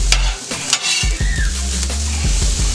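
Onions and ham sizzle and fry on a flat top griddle for an omelet, a steady close sizzle broken by repeated scrapes and taps of a metal spatula stirring the food.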